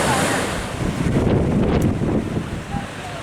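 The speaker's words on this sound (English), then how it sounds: "some of them waves were quite big" Sea waves wash onto a beach in Spain with a steady broadband roar, heavy wind buffeting the microphone throughout and a brief spray-like hiss midway, no talking.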